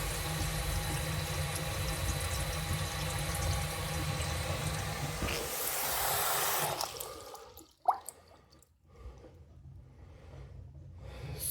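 Water drains from a bathroom sink after repair of a clogged drain and a full drain assembly replacement, a steady close rushing and gurgling that stops partway, followed by a few faint drips and handling noises.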